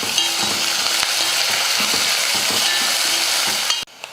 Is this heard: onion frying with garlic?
yes